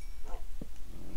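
A dog in the video game Minecraft gives a couple of short, soft yips and whimpers, faint against a low background hum.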